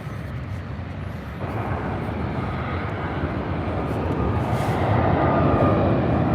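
An airplane passing near LAX airport gives a broad, steady engine roar that builds louder over several seconds as the aircraft draws closer, with no speech.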